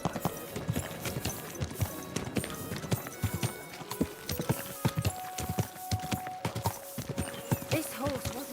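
Horse hooves clip-clopping in Kingdom Come: Deliverance II, a steady rhythmic trot of close, crisp hoof strikes throughout, with a faint game voice briefly in the background.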